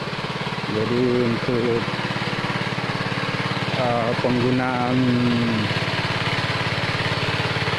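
A Stiem engine converted from petrol to LPG runs at a steady idle with a rapid, even chugging pulse. Someone talks over it at close range, and two brief tonal swells rise above the running engine.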